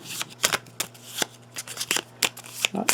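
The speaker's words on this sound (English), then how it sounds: "We're going to have to shuffle up and get 4 more." Hero Realms playing cards being shuffled by hand at a tabletop game, a series of crisp riffling bursts and snaps in quick irregular rhythm, close and clear with no talk.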